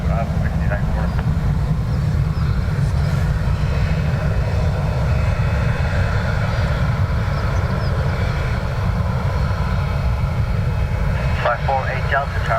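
A jet aircraft rolls for takeoff from runway 10R at Dublin Airport, a loud steady engine roar filling the whole stretch with low rumble throughout, while radio voices and chatter come and go over it.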